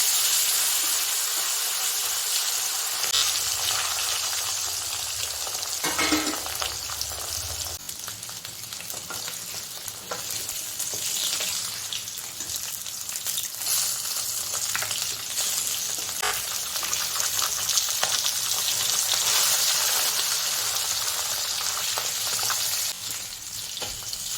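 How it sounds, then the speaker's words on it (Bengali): Fish pieces frying in very hot oil in a pan, a loud, continuous sizzle and hiss with occasional stirring scrapes, steady throughout with no talking. "বাকিগুলো ভেজে নিই।"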